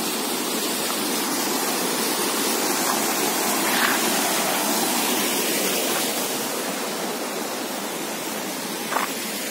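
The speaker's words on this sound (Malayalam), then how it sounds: "ഇവിടെ ചെറിയൊരു അരുവിയുണ്ട്." A small stream at Poovaranthode in the hills of Kozhikode flows with a steady, dense rushing wash of water, close and continuous, with no voices over it.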